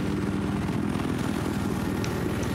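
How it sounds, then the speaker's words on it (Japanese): A helicopter in the military shooter game Battlefield 4 produces a loud, continuous rotor thrum and engine drone with steady rhythmic chopping, close and sustained throughout, with no talking. "まずあのヘリコプターを。"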